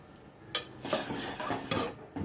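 Cucumber dal poured into a pan of hot tempering: a few sharp clanks and scrapes of the vessel against the pan, then a soft hiss and stirring, close and fairly quiet.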